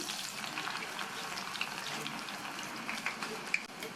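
Garlic cloves, lightly crushed, sizzling and crackling in hot oil, a steady close frying hiss with occasional pops and stirring scrapes.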